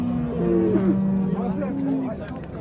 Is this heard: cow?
yes